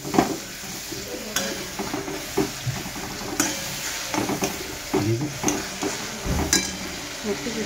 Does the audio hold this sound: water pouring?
no